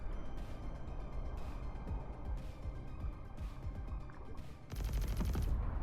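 Rapid weapon fire in a video game comes in several short bursts with heavy recoil, ending in a long sustained volley over constant loud battle noise.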